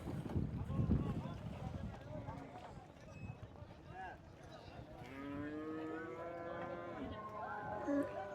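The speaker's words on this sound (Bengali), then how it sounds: "আরও একটি ট্রলার বোঝাই কিন্তু গরুর ট্রলার চলে এসেছে।" Cattle moo repeatedly, loud and close, from a trawler boat loaded with cows arriving at Hazratpur cattle market, with wind buffeting and people talking nearby.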